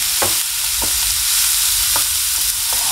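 Cabbage and other vegetables for veg momo filling are stir-fried in a pan, giving a steady close sizzle broken by a few short scrapes of stirring.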